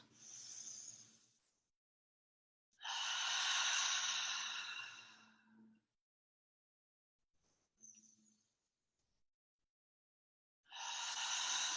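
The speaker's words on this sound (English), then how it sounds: "exhaling the waist wind" Long, breathy exhalations during a Tibetan Lu Jong healing yoga session, two broad airy whooshes with a faint shorter breath between and another starting at the end, close and soft over a quiet room.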